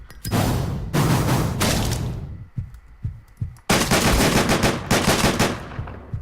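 Rapid video-game gunfire in Deadbolt, loud sustained bursts of automatic shots broken by a few single heavy thumps and a short pause, with no talk over it.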